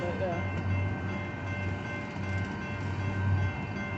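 A long BNSF empty intermodal freight train led by locomotives 8211 and 6229 rolls steadily past, a continuous rumble and rattle of railcars heard at close range without pauses.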